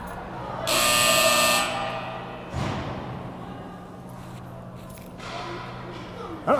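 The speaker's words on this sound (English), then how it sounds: "Buzzer sounds." A loud, long ice hockey arena buzzer blares for about a second during a U13 youth game, followed by thuds and rumbling rink noise with faint crowd sounds.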